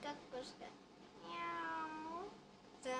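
A woman imitates a cat with her voice: a short meow, then a longer drawn-out wavering meow, and another brief one at the end, close and clear.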